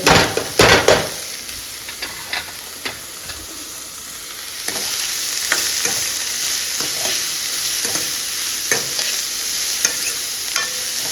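Chopped carrots sautéing in a pan, with a steady close sizzle and repeated sharp scrapes and clinks of a spoon stirring against the metal, loudest at the start and then settling into a continuous hiss, no voices.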